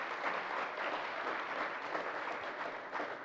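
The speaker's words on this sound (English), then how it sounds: "let's give them a round of applause" At an awards ceremony for a hall of fame, an audience gives a short round of even, steady applause, somewhat distant and soft, lasting a few seconds.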